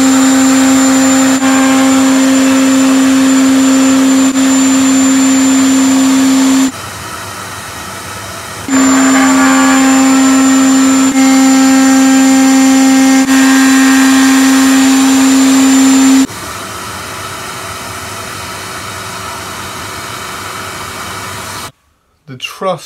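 A router cutter cutting a truss rod slot in a wooden guitar neck, a loud steady high whine with a strong tonal hum, running in two long passes separated by a brief pause, then spinning down.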